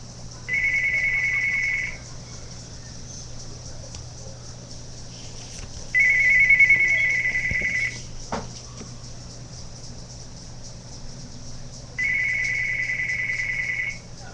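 A phone ringtone from The Matrix trills in three evenly spaced bursts of about two seconds each, with long silent gaps between them and a sharp click near the middle, clear and close over a low steady hum.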